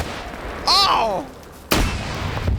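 Two sharp grenade blasts go off about a second apart in a WW2 player-versus-player shooter game, loud and close, with a brief excited voice between them.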